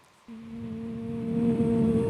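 A single steady flute note enters and holds, growing slightly louder as it sustains.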